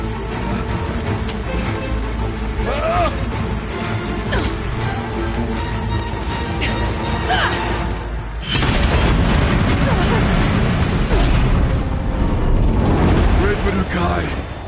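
Explosive ammunition blasts in the Horizon Zero Dawn Frozen Wilds game, heavy booming and crashing impacts with a dense rumble that swells loudly midway and stays sustained, layered over busy game noise.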